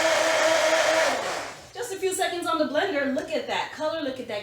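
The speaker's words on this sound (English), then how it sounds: "Just a few seconds on the blender." A blender whirs briefly and loudly as it blends an iced coffee latte drink, then cuts off. A person starts talking right after the motor stops.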